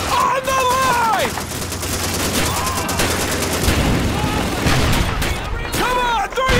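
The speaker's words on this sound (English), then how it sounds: "Machine gun MG-42! In that house!" MG-42 machine gun fire in the World War II shooter Call of Duty 2, rapid sustained bursts that crackle over shouted voices and battle noise, loud and near.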